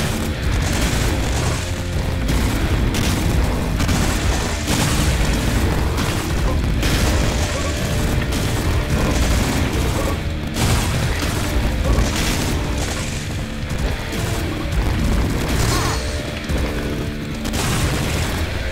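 Heavy gun firing in the video game Valfaris, a dense, continuous barrage of booming blasts and bursts mixed with loud game music, sustained throughout without pause.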